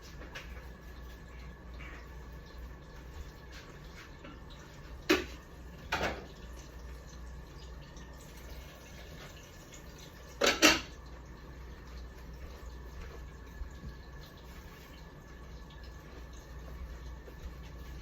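A deep fryer frying chicken in a home kitchen gives a steady, low sizzling hiss throughout, with a few brief clinks of utensils or cookware standing out above it.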